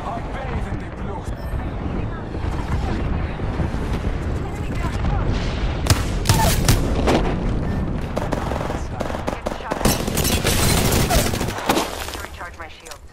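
Gunfire and explosive booms from an Apex Legends battle, loud bursts and blasts that build toward the end, with a voice talking intermittently over the shooting.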